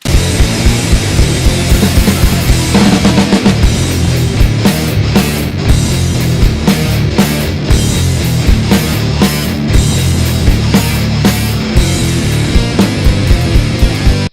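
A loud, mastered full band track with pounding drums and thick guitars plays steadily, sounding dense and punchy throughout, ending abruptly.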